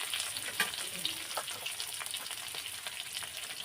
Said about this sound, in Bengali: ছোলাগুলো একটু ভাজা ভাজা করে নিতে হবে একটু নাড়িয়ে চাড়িয়ে নিয়েছি